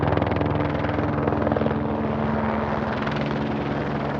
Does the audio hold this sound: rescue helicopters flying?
yes